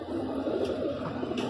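Punjabi pigeons coo in a loft, soft low murmuring calls running steadily up close, with a faint higher chirp now and then and no talk.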